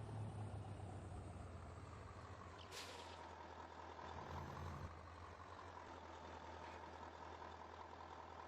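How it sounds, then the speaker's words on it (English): Air brakes hiss on a log-hauling lorry in the farming game Farming Simulator 19, a short sharp release rising briefly over a steady, faint engine drone. "Brakes working overtime on this poor lorry."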